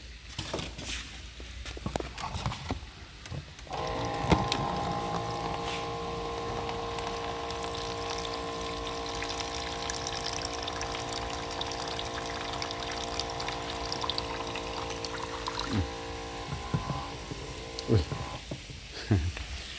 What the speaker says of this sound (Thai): น้ำใส่หน่อยนะ แป๊บนึงนะขอน้ำใส่หน่อย